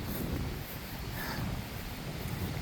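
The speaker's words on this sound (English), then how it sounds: "it's windy out, I'm sorry about the wind" Strong outdoor wind buffets the microphone in a steady, loud, broadband rumble with no break, while quilts are laid out for photographing.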